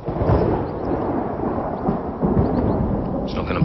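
Thunder during a storm rumbles as a continuous deep roll lasting several seconds, loud and unbroken, with no voices over it.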